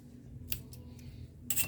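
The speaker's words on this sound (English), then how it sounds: "Don't know why it cuts so nicely, but it does." A few crisp snips of titanium glue scissors cutting paper, sharp and close, spaced irregularly over a quiet low hum.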